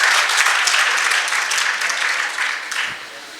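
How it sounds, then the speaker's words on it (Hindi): Applause from the audience at a Hindi poetry festival, a bright dense patter of many hands clapping, strong at first and gradually tapering off toward the end. "आप लोग की तालियों की गड़गड़ाहट में जो वृद्धि हो रही है"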